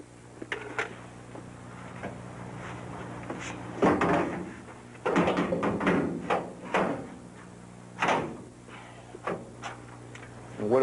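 A heavy basement door with torsion bars is handled and fitted into place, making scattered knocks, thuds and scraping clunks in irregular bursts against a quiet room.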